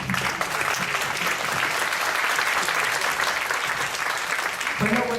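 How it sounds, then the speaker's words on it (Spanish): Full, continuous audience applause at a scientific conference talk, a dense wash of clapping that holds at steady loudness for around five seconds before a voice begins to speak at the very end. "Un aplauso para ella."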